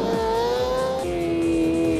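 Motorcycle engine in the RIDE 4 racing game on PS5, a close, loud, sustained high-revving whine holding steady pitch, with faint tire noise and no talk.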